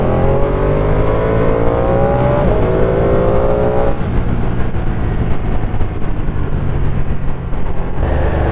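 A Ducati V2 Streetfighter motorcycle engine pulls hard on a wet road, a loud close rising rev that climbs steadily before easing into a steady roar under heavy wind rush, with no talk.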